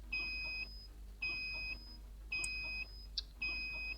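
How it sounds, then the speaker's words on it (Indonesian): A prepaid electricity token meter gives off a series of four steady electronic beeps, each about half a second long and evenly spaced, sounding clearly against quiet room background with no one talking. "Token listriknya bunyi"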